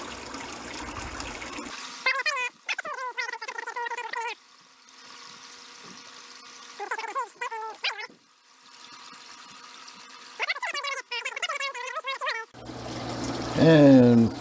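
Tap water at about 57 degrees pours in bursts into a container of roughly 2.5 gallons for an aquarium water change, a splashing, gurgling stream that starts and stops several times, with a louder rush at the end.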